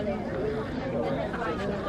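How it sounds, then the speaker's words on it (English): A large crowd of hikers chatters on the summit of Arthur's Seat in Edinburgh, a steady, dense babble of many overlapping voices with no single speaker standing out, constant and fairly close throughout. "I don't actually like this with a massive crowd here."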